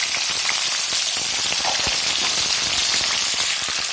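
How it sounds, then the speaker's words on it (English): Vegetables fry in soybean oil in a pan, a loud, steady, close sizzle with dense crackling throughout and no talk. "I have taken soybean oil in this, and I'm going to put all my vegetables and I'm going to fry it"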